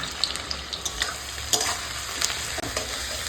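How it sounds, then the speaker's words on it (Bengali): Potatoes frying in hot mustard oil in a wok, a steady crackling sizzle broken by sharp clinks and scrapes of a spatula stirring, close and moderately loud. "এখন কড়ায় তেল চাপিয়ে দিয়েছি সর্ষের তেল আর তেল গরম হয়ে গেছে দিয়ে এখন আলুগুলোকে দিয়ে দিচ্ছি"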